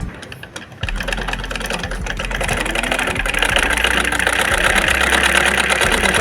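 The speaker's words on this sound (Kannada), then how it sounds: "ಈಗ ಹೊಲಿಗೆ ಹಾಕಿ ನೋಡ್ತೀನಿ ರೀ ಒಟ್ಟು ಹೊಲಿಗೆನ ಬೀಳವಾಗ್ರದೆ" A sewing machine stitching fabric, a steady rapid mechanical whir and clatter that starts abruptly after a brief pause and runs continuously and loudly to the end, with no talk over it.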